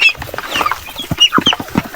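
Several hybrid chickens cluck and squawk close by on a farm in a busy, irregular chorus.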